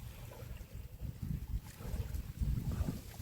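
Strong wind at a mullet fishing spot on Ganghwa Island buffets the microphone in deep, uneven rumbling gusts that swell and fade with no voices.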